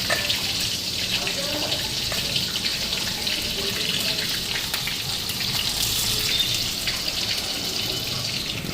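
Fritters (boras) frying in a home kitchen give a steady, close hiss with crackle, continuous through the whole stretch, with faint speech-like murmur in the background.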